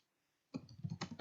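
Fast typing on a computer keyboard during a university computer class, a burst of close, irregular key clicks that starts after a silent half-second and runs on without pause.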